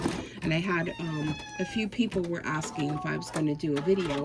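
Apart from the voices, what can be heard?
cat meowing for attention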